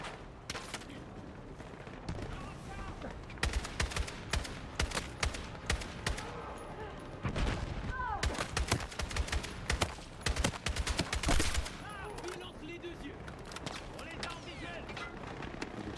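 Gunfire in the video game Battlefield 6, bursts of rapid automatic shots and scattered single cracks, loud and irregular, with people talking over the battle.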